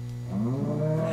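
A single low, drawn-out moo from a Minecraft cow in a snow biome, rising slightly in pitch, heard close and alone against a quiet background.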